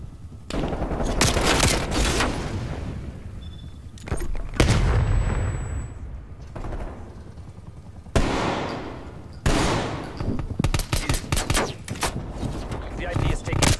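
Bursts of automatic rifle fire and explosions in Black Ops Cold War on the Garrison map, several separate volleys and booming blasts across the clip, with voices calling out between them.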